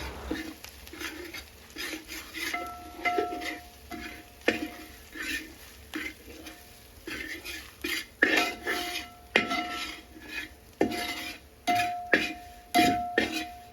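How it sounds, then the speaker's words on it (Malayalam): Spice powders are stirred in a cooking pot while boti curry is made. A spoon scrapes and clinks against the pot in a steady repeating rhythm, close by, with a few faint bird chirps in the background. "നന്നായിട്ട് ഇളക്കാം അടിക്ക് പിടിക്കാതെ നന്നായിട്ട് ഇളക്കണം"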